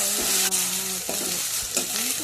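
Onions sizzle and fry in a hot pan for a tamarind curry, with brief scraping stirs of a utensil every second or so.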